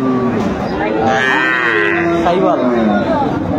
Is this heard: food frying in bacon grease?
no